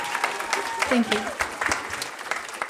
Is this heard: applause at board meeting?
yes